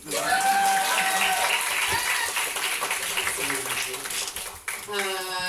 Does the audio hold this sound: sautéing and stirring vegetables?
no